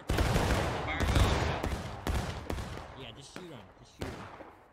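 Musket volley fire in the American Civil War game War of Rights, several sharp crackling volleys a second or so apart, fading somewhat, with faint voices in the background.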